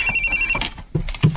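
A cellphone rings with a short repeating electronic tone, close and clear, in a Filipino television drama scene, with voices and movement sounds beneath it.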